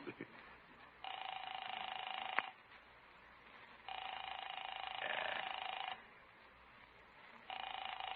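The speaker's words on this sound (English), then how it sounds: "I'll phone Paula" A telephone rings out in repeated long buzzing bursts, each lasting a second or more with pauses between, heard through a handset after a brief dialing click, with no talking.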